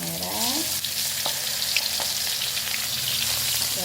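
Shallots fry in hot oil in a pan for sambal with tempeh and anchovies, a close, steady sizzle with faint stirring clicks and a brief voice at the start.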